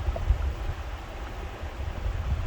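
Quiet ambience at the edge of a river in late fall, a steady low rumble of flowing water and light wind with no voices.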